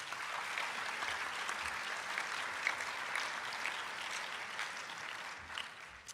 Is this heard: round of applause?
yes